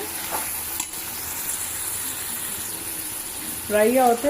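Liver frying in oil with onions in a pan: a constant hissing sizzle with a light clatter of stirring, close and moderately loud, with a short burst of voice near the end.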